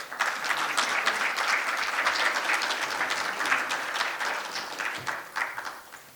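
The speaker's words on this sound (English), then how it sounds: "Please welcome him with a warm round of applause." A warm round of applause greets a speaker at a journalism conference opening ceremony, steady, full clapping from a large audience that thins and fades toward the end.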